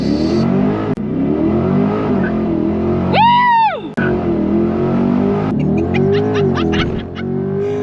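A C8 Corvette launching at full throttle from a standstill, a loud close engine roar that surges sharply up and cuts between gears, with people talking and exclaiming over it.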